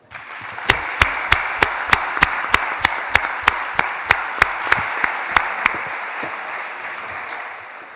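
An audience at a church lecture on confession welcomes the speaker, a priest, with applause: a steady bed of clapping topped by sharp, evenly spaced accented claps that stop after about six seconds and leave the crowd's applause to fade.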